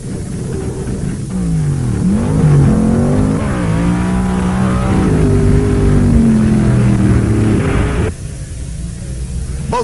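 Powerful 1970s drag race engines roar and climb in pitch as two cars accelerate hard down the strip, loud and sustained for several seconds before the sound abruptly drops away.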